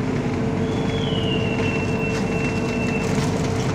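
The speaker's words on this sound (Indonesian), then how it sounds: "KA Singasari kembali diberangkatkan dari stasiun Lempuyangan Yogyakarta jam 21:55" The KA Singasari passenger train pulls out of Lempuyangan station in Yogyakarta at night, a continuous loud rumble of rolling stock with a steady hum and a thin squeal rising over it midway.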